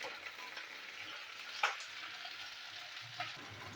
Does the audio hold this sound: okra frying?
yes